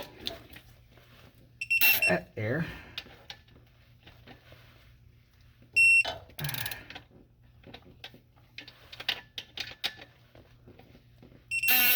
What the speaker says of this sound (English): turn on the beeping nagger